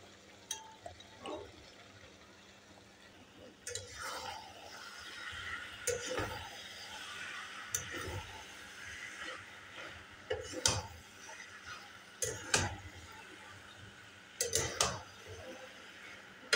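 Jackfruit and chicken frying with spices in a pan, with scattered metallic clinks and scrapes of a spatula against the pan over a faint, steady sizzle, the louder stirring bursts arriving every second or two.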